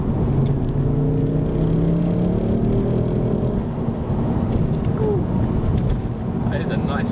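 Ford Focus ST engine droning loudly under acceleration, a sustained cabin roar with climbing tones, then easing near the end as a voice briefly speaks.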